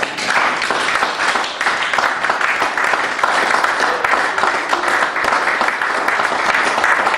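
A church congregation applauds in steady, dense clapping that runs throughout, loud and close, with faint voices mixed in.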